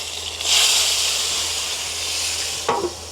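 Gyoza in a square pan under a baking-tray lid, a continuous close sizzle and steamy hiss that swells early, then holds steady with a brief clatter near the end.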